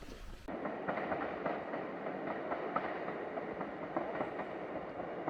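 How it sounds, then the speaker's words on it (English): A train on the Looe Valley branch line rumbles steadily past with a continuous rolling roar and faint rhythmic clatter of wheels, loud and close throughout. "let's see if we can get a train going past as well"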